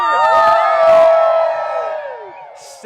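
A crowd gathered outdoors to watch a total solar eclipse in Seymour, Indiana, lets out a loud burst of cheers and whoops that gradually fades away.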